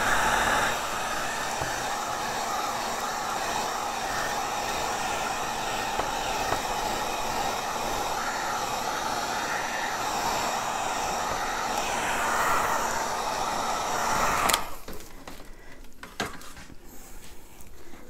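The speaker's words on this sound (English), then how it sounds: "I'm going to torch or heat gun this for a minute." A heat gun blows a steady, loud roaring hiss while heating a paint-covered plastic mayonnaise or mustard bottle lid, running continuously for about fourteen seconds before cutting off, followed by light handling noises.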